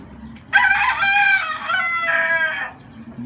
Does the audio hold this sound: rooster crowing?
yes